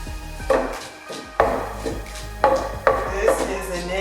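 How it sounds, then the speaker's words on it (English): Dull, heavy thuds of onion and pepper being pounded in a mortar with a pestle, about five strikes at an uneven, unhurried pace, close by with some clatter. "You can if you don't have the pestle and mortar."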